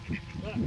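Canada geese on water give several short, nasal honks and quacking calls close by, mixed with people talking.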